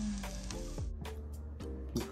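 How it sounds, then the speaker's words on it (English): Chicken coated in Carolina Reaper hot Cheetos fries at around 370 degrees, a quiet, soft sizzle running under faint kitchen clatter and brief movement noises. "you hear the sizzling?"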